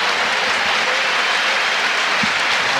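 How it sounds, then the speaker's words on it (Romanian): Crowd applause fills a football stadium during a hydration break at Gheorghe Hagi's final official match in 2024, a steady, dense wash of clapping from many fans that holds evenly throughout without pause. "un nou moment în care fanii aplaudă acest efort deosebit al oamenilor noștri"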